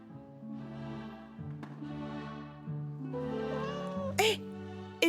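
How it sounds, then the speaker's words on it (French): A cat meows several times in drawn-out, rising calls, close and fairly loud, with a short sharp yowl near the end. "Hé, Eva, miaou miaou."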